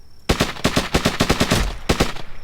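Gunfire in the video game Hurtworld: a rapid burst of about a dozen sharp, close automatic shots, a brief gap, then a few more shots at the end.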